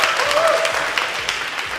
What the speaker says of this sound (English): let's actually give him a clap for that